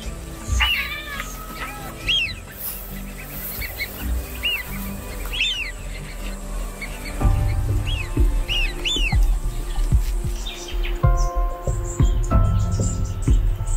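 Migrating birds at a lake give repeated chirping calls over steady insect-like trilling and a continuous outdoor hum, with a louder lower rumble joining partway through.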